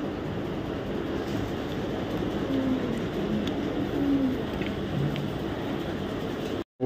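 Racing pigeons coo in a few soft, low calls over a steady background hum, with no talking.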